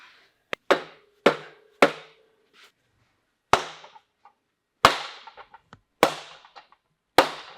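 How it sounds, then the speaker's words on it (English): A 5-pound dead blow hammer strikes bearing races in a series of sharp, separate blows, loud and close, with irregular pauses and a few faint lighter taps between the main hits. "I'm using a 5-pound dead blow."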